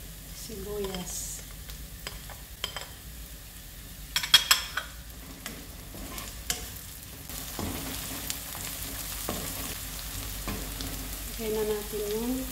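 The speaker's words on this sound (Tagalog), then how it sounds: "Ilagay na natin yung bawang. Sunod na natin yung sibuyas." Garlic and onion frying in a pan for an Arabic-style ground meat and vegetable dish give a steady moderate sizzle with scattered stirring clicks, and a voice talks faintly in the background at times.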